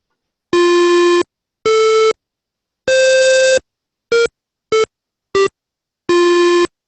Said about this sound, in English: if I want to change this to, let's say, a square one